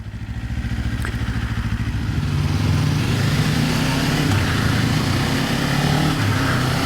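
A 2024 Kawasaki Ninja 500 motorcycle is ridden with its engine droning loud and close, pulsing as it builds steadily in the first seconds before it holds a rough, even roar.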